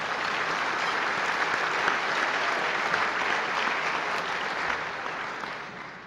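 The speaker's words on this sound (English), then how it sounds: "I'd like a round of applause, please, for the sponsors of that event" Diners at a benefit dinner on immigration applaud the event sponsors with a sustained, even roar of clapping from a large room that tapers slightly toward the close.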